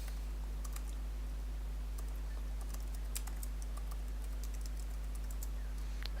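Someone enters a password on a computer keyboard, quiet rapid key clicks in short uneven bursts over a low steady hum, with no voices.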